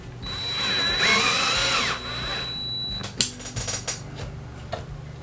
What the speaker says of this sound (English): We're going to be doing a lot of screwing here.